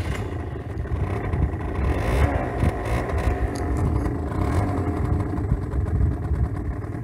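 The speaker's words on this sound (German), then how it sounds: "Der geht fast aus, Alter, weil er kalt ist. Aber hört ihr, wie niedrig die Drehzahl einfach ist?" A cold 2019 Aprilia SR 50 Motard Euro 4 scooter idles at very low revs, a close, steady low engine rumble that sounds rough and close to stalling.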